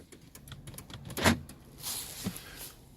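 The power door locks on a 2012 Chrysler 200 fire with a sharp clunk, then a second, softer clunk about a second later, close by in a quiet car interior.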